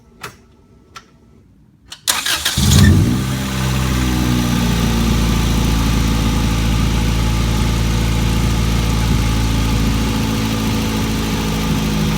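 A car engine cranks briefly after a few faint clicks, catches with a loud rev, then settles into a steady, even idle after a fresh oil change.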